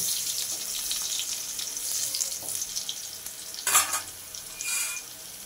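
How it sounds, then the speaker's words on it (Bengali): Potato pieces fry in hot oil in a covered pan, giving a steady hiss punctuated by a couple of louder sizzling bursts and clinks, with no talking. "এবার এই তেলের মধ্যে আলুগুলো দিয়ে ঢাকনা দিয়ে ঢাকিয়ে আলুটাকে লাল করে ভেজে নেব।"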